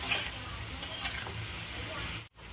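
Mushrooms frying in a pan with salt and a little turmeric, giving a steady close sizzle with stirring scrapes throughout and a brief drop out near the end.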